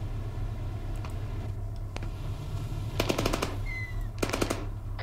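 Sustained rapid bursts of minigun fire in the military shooter Arma 3, two long ripping volleys over a steady low engine drone, with a brief whistling tone between them.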